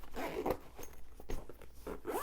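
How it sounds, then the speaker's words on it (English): A zippered journal case with pockets and a small handle is zipped shut, giving a steady close-up rasp of zipper teeth in several quick pulls and a soft scrape of fabric. "And it zips up. Let me get it zipped up."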